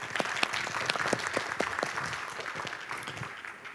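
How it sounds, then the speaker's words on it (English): A conference audience at a world hunger event applauds, a moderately loud patter of many hands with distinct individual claps audible, tapering slightly toward the end. "please another round of applause to Anna Moraya from Deloitte, the moderator"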